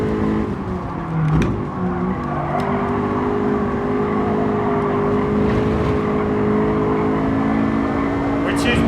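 Race cars in Gran Turismo 7 thread through road traffic, a steady loud engine drone holding throughout with a brief shift in pitch early on and occasional tire noise, and a voice talking over it.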